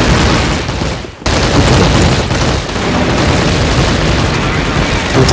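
A loud, booming grenade blast in a video game rolls out amid constant noisy gunfire-like clatter, with a brief dip just before the explosion hits.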